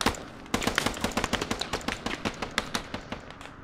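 Rapid bursts of gunfire from a video game firefight crackle in an uneven, fast rhythm, loud and close, starting after a short quiet gap with no talking over them.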